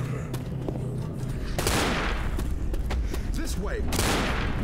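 Pistols fire in rapid bursts in the Left 4 Dead zombie shooter, sharp cracks overlapping into a near, loud fusillade while a player's voice speaks briefly over the gunfire.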